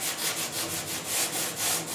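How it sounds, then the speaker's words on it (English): A sanding block rasps back and forth over primer on the dash of a 1966 Ford F100, with about eight quick, even strokes in steady rhythm, close and fairly loud. "So let's just start block sanding."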